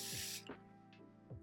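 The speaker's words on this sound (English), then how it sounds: "I'm getting the Morphe setting spray." Morphe setting spray hisses out in one short, faint burst at the start, followed by quiet handling noises.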